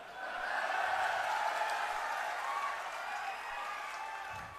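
Crowd applause at a political gathering with Arvind Kejriwal and Punjab's SC community, a sustained wash of many hands clapping that swells and then slowly thins.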